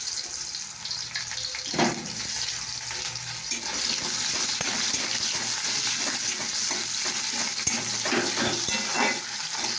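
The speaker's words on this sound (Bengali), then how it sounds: "পেঁয়াজ কেটে দিয়ে একটু নেড়াচাড়া করে" Chopped onions frying in oil left over from frying fish, stirred now and then, a dense steady sizzle with occasional scrapes and taps of a utensil, close and continuous.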